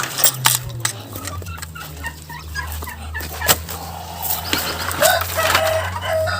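A drake duck gives agitated, raspy hissing calls and low gabbling amid scuffling and rustling nearby, with a steady hum in the background.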